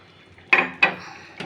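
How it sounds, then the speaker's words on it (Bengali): A metal lid set onto a pot of cooking prawns gives two sharp clinks close by, followed by a third softer clatter, with faint background hiss between them. "এভাবে আস্তে ঢাকনা দিয়ে রান্না করব"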